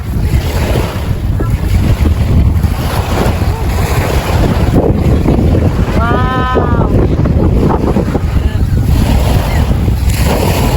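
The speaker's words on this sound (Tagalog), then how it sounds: "Kusog kaya ang balon. Wave, wave." Loud sea waves crash and surge continuously amid strong wind buffeting on a beach in Bahrain, while a person exclaims briefly in the middle.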